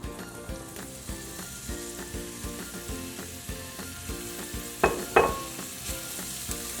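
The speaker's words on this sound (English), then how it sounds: "we're just gonna go ahead and get our onions cooking before we add the other vegetables." Onions sautéing in about two tablespoons of olive oil for a vegetable stir-fry, a steady close sizzle with a couple of sharp utensil clicks and no talking.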